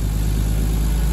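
A Toyota Supra fitted with a CT oil-less turbocharger idles steadily, its engine giving a loud, constant low hum with a faint high whine on top and no talking.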